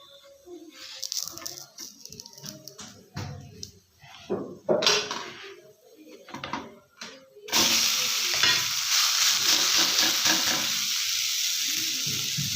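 Rava uttapam on an oiled pan: scattered scraping and clattering of the turner comes first, then the batter is flipped and a loud, steady sizzle of frying in oil takes over for the rest.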